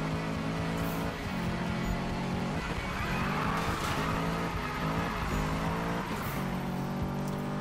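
A car drifting at 60 mph in the Need for Speed video game, its tires skidding under a loud, continuous engine drone that rises and falls in pitch throughout.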